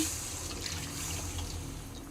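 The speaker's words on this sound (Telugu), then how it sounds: "వాటర్ పోసుకోండి" Water is poured into a pan of stuffed eggplant curry, giving a brief, steady splashing gush at close range.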